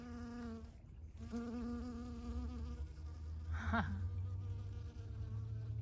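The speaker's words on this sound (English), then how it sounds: "Got a little bee on my Violacea bloom." A bee buzzes close around a Violacea flower bloom in a December garden, a steady nasal hum that shifts pitch as it moves and swells briefly near the end, with no voices.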